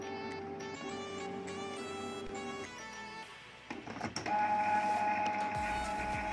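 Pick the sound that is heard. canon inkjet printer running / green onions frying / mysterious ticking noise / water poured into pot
canon inkjet printer running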